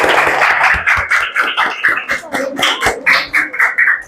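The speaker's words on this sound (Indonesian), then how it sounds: "Tepuk tangan untuk kita semua" A classroom of seventh-grade students clapping hands together in a series of sharp, fairly close claps, with children's voices chattering and calling out over the rhythm.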